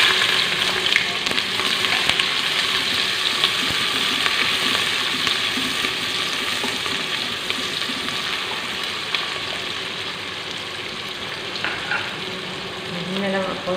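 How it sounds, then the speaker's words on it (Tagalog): Onions sizzle and fry steadily in a hot pan for beef afritada, a constant close crackling hiss with occasional stirring scrapes and no talking. "ilagay na natin ang ating onion"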